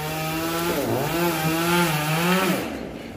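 A chainsaw cutting down a dipterocarp tree beside a church runs close by, its droning pitch rising and dipping as the saw bites, then trailing off near the end.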